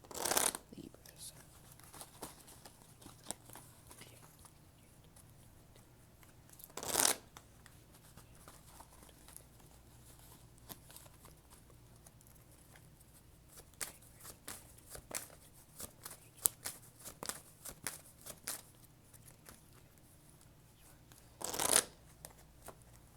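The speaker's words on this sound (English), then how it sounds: "So I'm just going to shuffle these first." Tarot cards being shuffled close by, soft riffling and sliding with a few louder snaps, steady handling throughout with little else around.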